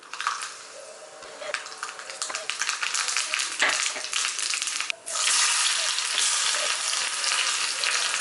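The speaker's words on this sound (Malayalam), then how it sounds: "എണ്ണ ഒന്ന് ചൂടായി വരുമ്പോൾ ഇതിലേക്ക് 1 ടേബിൾ സ്പൂൺ കടുക് ഇട്ട് കൊടുക്കാം." A tablespoon of mustard seeds sizzling in hot coconut oil, cooked for a drumstick and kudampuli curry. A loud, steady close-up frying hiss with small crackles runs throughout, dips briefly, then surges back stronger.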